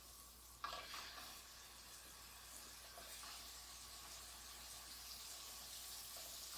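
Blackened Cajun mahi mahi hits hot butter and olive oil with a sudden burst, then settles into a steady, close, hissing sizzle.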